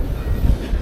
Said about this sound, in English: Less than 5 minutes on the train.